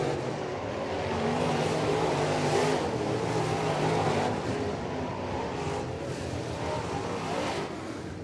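Crate dirt race cars at the East Bay WinterNationals roar around the track as the race finishes, a dense, steady engine drone with surging revs rising and fading, moderately close and continuous.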